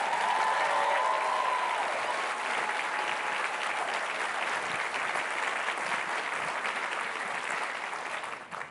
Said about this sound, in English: Now that's worthy of another round of applause.